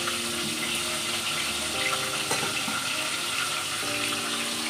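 Fish fries in oil in a wok, giving a steady, close sizzle with faint clinks and scrapes over a constant hiss and no talking.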